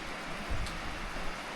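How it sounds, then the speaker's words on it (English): Steady rain falls outdoors at a homestead site with muddy roads, a soft, even hiss with no other sound, faint and continuous. "With all this rain that we're getting right now"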